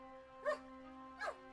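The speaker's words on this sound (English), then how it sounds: "and this is my trusty sheepdog, Azor." A sheepdog barks twice, two short distinct woofs about three-quarters of a second apart, fairly close over a steady background hum.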